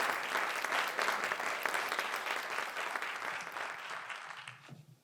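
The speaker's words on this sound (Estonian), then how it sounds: "Aplaus!" Audience applause at a regional award gala honoring a county's teacher of the year, a dense, steady clapping from a sizable crowd that holds for several seconds before tapering off at the end.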